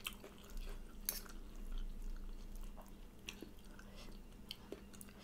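Close, wet chewing of spicy stir-fried chicken gizzards with holy basil, a steady run of moist squishy bites with a few sharper crunchy onsets, no talking.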